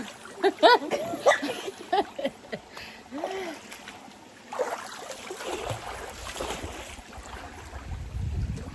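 Water splashes in a Jamaican countryside river as someone swims, with a run of choppy splashes early on and then gentler sloshing, mixed with voices calling out nearby.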